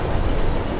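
A train in the video game Mirror's Edge roars close by, a dense, loud rumble of rail noise with a clattering undertone filling the whole moment.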